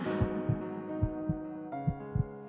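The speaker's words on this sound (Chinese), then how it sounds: "我的心跳哪会阁遮紧啊？" Heartbeat sound effect, soft low thumps in paired beats at a slow steady rhythm over a sustained musical hum, with no voices.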